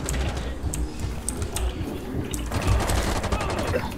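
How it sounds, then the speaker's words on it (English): Gunfire from behind the player in Rainbow Six Siege: dense, rapid bursts of automatic fire rattle continuously and loudly for the whole stretch. "Someone's shooting from behind."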